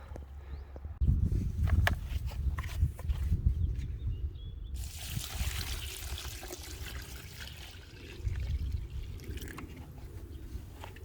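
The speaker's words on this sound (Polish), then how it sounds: "i zalejemy wodą." Water pours into a bucket holding a few kilograms of nettles, tansy or dandelion for a homemade garden fertilizer, giving a close, rushing splash that starts abruptly, continues for several seconds and then eases, with some handling bumps and no speech.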